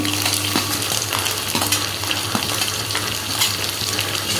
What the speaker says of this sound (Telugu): ఇప్పుడు ఉల్లిపాయ వేస్తాము